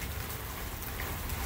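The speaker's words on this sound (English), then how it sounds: "it's a bit of a rainy day today" Steady rain falls outdoors on a rainy day in Florida, a soft continuous hiss of drops on surfaces with no voices.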